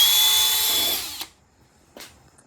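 A power drill whirs into wood at high speed for about a second, winds down, then a short knock follows in an otherwise quiet space.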